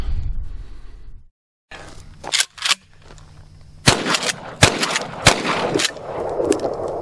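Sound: gunshots from a budget firearm

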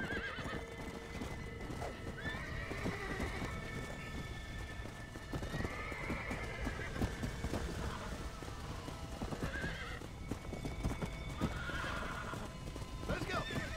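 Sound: horse galloping and neighing in a cowboy video game

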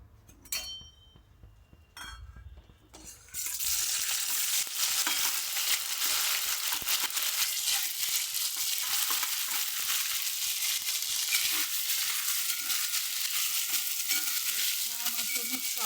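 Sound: frying ground spinach masala in hot oil

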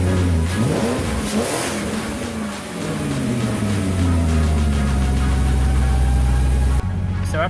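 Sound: BMW E39 engine running after new Bosch ignition coil

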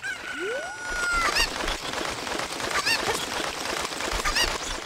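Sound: chicken clucking in video game Ocarina of Time

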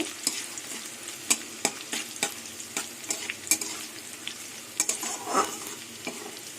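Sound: frying crushed garlic in a pan

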